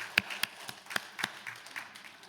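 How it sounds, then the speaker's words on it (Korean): Church congregation clapping while greeting one another, a handful of sharp, fairly close hand claps at irregular intervals over a quiet room background. "모두 자리에서 일어나셔서 서로 박수로 서로 격려하시고 인사 나누겠습니다."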